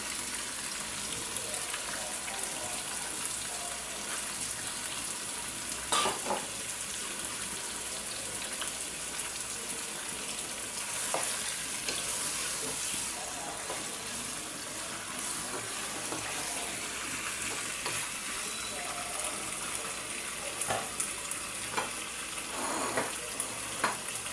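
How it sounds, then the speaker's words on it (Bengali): Chicken pieces sizzle and crackle steadily in a hot pan, a constant hiss with occasional louder spits and stirring scrapes, close by. "এটার মধ্যেই আমার মুরগিগুলো একেবারে ভাজা ভাজা হয়ে গেছে"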